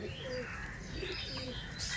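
Madras pigeons coo softly while a pair is held and turned over by hand at a sale, the low murmuring calls faint and continuous under background noise.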